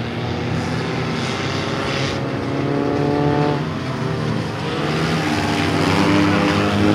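Race cars roar past in a night skid plate race, several engines layered into a loud, continuous drone with rising and falling pitch as the field passes the start-finish line.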